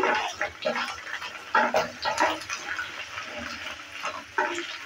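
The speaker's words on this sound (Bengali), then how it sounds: "ভেন্ডিটা দেওয়ার পর একটু নেড়ে চেড়ে নিচ্ছি।" Okra fried over low-medium heat in a pan, tossed and stirred, giving a wet, bubbling sizzle with irregular bursts and scraping surges close to the microphone.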